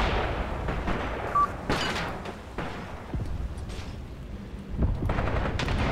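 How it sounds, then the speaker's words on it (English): Grenade blasts and gunfire around a stuck Panzer IV tank in the WW2 strategy game Graviteam Tactics: Mius Front, irregular booms and sharp cracks over a rumbling battle backdrop. "the enemy infantry is actually throwing grenades at it"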